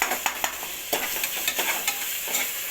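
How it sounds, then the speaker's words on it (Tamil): Ginger garlic paste sautéing in oil for vegetable biryani, a bright continuous sizzle punctuated by sharp scraping strokes of a spoon against the pan, close and fairly loud, no talking. "நல்லா எண்ணெய் பிரிஞ்சு வர வரைக்கும் நல்லா வதக்கிக்கோங்க."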